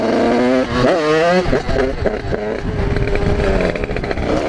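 A small 50cc motorcycle engine revs up and pulls away on the clutch, its buzzy tone climbing and wavering, loud and close throughout.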